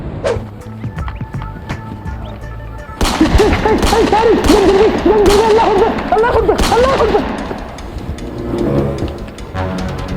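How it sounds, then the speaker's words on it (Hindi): Bursts of gunfire crack through a comedy sketch set in Karachi in 1947, a loud, dense volley that starts abruptly about a third of the way in, with voices or barking mixed into the din. "अरे बेटा फायरिंग हो रही है, जंग छिड़ गई है"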